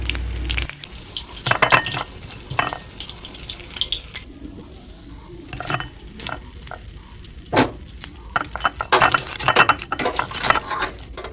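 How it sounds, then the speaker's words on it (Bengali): Crispy fried paneer snacks are served onto a plate, heard as clinks and scrapes of a utensil against crockery in uneven bursts, with brief rattling clusters over a quiet kitchen background. "আর প্লেটে সার্ভ করার আওয়াজ শুনে নিশ্চয়ই বুঝতে পেরেছো যে কতটা ক্রিস্পি হয়েছে।"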